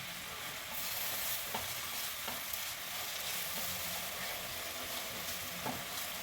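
Tomato and masala sautéing in a pan for mushroom masala, a steady moderate sizzle with a few faint spoon scrapes and stirring taps throughout, no voices.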